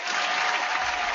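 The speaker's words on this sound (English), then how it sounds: "I've got an applause button." A burst of crowd applause and cheering plays steadily and loudly, like a canned clapping effect, with no voices over it.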